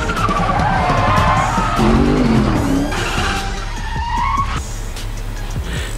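A car skids and squeals its tires while fleeing police in a Fast and Furious 9 chase, loud and close, with a long wavering screech over a constant roar of engine and road noise.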